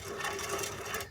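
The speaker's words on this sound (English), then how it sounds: "Yep, this ball joint is really bad." A worn-out ball joint on a Toyota Prius gives a rapid, rough mechanical chatter, a steady buzzing rattle heard up close for about a second with no talking.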